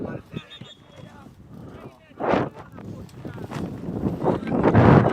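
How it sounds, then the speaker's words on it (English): Gusty wind buffets the microphone at an outdoor futsal game in Jamaica with rising, roaring bursts, growing louder toward the end, while a voice talks in the background. "It's getting windy for the players."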